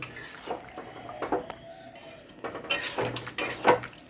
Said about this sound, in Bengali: একটু নাড়িয়ে দিচ্ছি